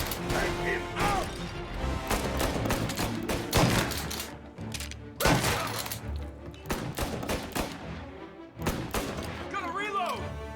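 Gunfire in Mafia Definitive Edition, sharp repeated shots in bursts with crashes and mechanical clacks, loud and close, while voices shout over the firefight.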